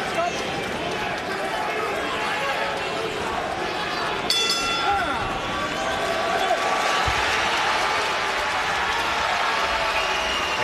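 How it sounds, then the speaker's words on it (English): Boxing arena crowd cheering for fighter Rashi Warren in the Warren vs Payano rematch, a steady dense roar of many voices that swells briefly near the middle, with a commentator talking over it. "the crowd cheering for Rashi Warren"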